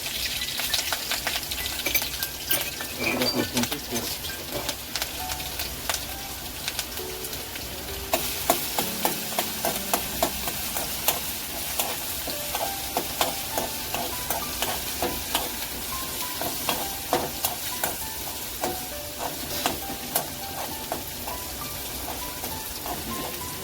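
Curry leaves fry in hot oil in a pan for an onion-tomato vegetable dish, giving a dense, steady sizzle with crackling pops and occasional stirring scrapes, heard close with no voices.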